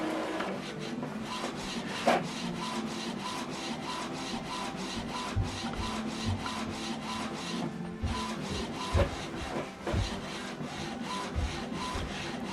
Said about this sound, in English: So it's going to print alignment head.